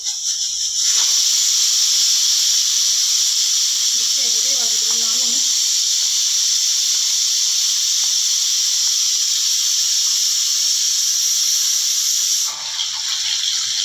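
Pounded green chili and garlic hitting hot oil, a steady loud sizzling hiss that holds for about twelve seconds, with a brief low murmur partway through.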